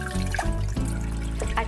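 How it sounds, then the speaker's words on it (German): Cold tap water running over raw chicken thighs in a kitchen sink, a steady splashing stream with small interruptions as the meat is moved under it, close and clear. "jetzt werde ich zuerst die Hähnchenschenkel dann mit kaltem Wasser gut abwaschen"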